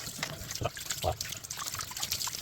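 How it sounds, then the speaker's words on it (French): Hot tap water running into a kitchen sink for a rinse, a soft uneven trickle and splash with a few brighter drips, faint and close. "j'ouvre ma bande d'évier et je rince avec de l'eau chaude"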